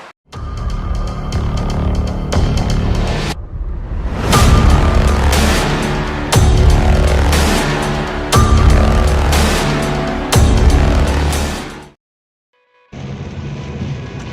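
Kia Stonic with a 1.4-liter inline four-cylinder engine driving, loud engine and road noise in several sweeping bursts separated by abrupt cuts, including a brief silence near the end.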